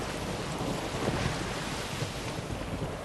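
Stormy wind in The Witcher 3 roars as a steady, dense rushing wash with surf-like swells, fairly loud throughout and with no voices.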